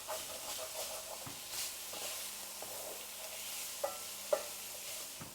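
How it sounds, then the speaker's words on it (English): Onions caramelize in a hot pan with a soft, steady sizzle and hiss, broken by occasional scraping strokes of a spoon across the bottom, close but fairly quiet with no talking. "These onions are caramelizing already."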